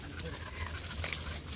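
A mother dog pants in quick, soft breaths with a brief whimper, close by, over faint outdoor background noise.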